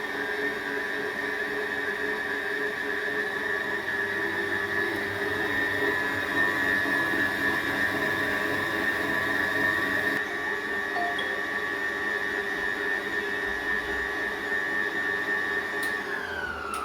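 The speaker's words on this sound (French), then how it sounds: "je mets une partie à mixer et l'autre juste après" Electric mixer blending milk into cupcake batter in a bowl, a steady droning whir that holds evenly throughout, close and moderately loud, with no talking.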